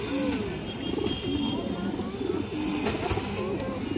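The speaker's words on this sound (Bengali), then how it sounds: "পাকিস্তানি হাই ফ্লায়ার কালদম একটা নর কবুতর" A male Pakistani high flyer Kaldom pigeon coos up close in a series of repeated low, throaty rolling calls over a steady background murmur.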